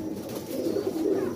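A pearl-eyed 'chuha' breed pigeon kept at home coos in a low, soft, sustained warble, close by and alone, with no talking over it.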